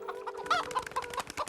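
A chicken clucks close by in a quick series of short, steady clucks with a faint hum underneath.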